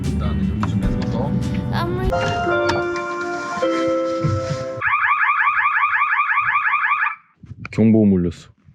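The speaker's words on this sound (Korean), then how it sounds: "경보음 울렸어." A car alarm blares in a snowy Lapland forest at night, cycling through different electronic tones, a steady warble and then rapid pulsing beeps, loud and nearby before it cuts off abruptly, with a short burst of sound afterward.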